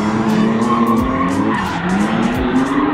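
Car tires skid and squeal loudly and continuously at a motor event in Mežciems, with revving engines underneath and no talk throughout.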